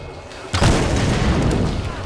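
A bomb blast in the video game Tomb Raider Definitive Edition: a sudden loud boom after a quiet moment, followed by a rolling, crackling roar of debris that stays loud to the end.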